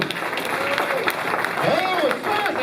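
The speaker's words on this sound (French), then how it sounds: "Oh, ça, c'est un applaudissement." Audience in a volunteer appreciation gathering clapping together in a burst of applause, steady broadband clatter throughout with voices and cheering calls rising over it.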